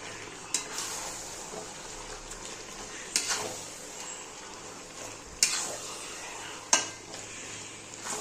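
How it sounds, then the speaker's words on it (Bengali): Mutton is stirred in a pan as it cooks with potatoes, a low steady sizzle broken by four sharp clanks of a spoon against the pan, close up and without talk. "এবারে নেড়ে দেবো, নেড়ে আমি ঢেকে দেবো একটু"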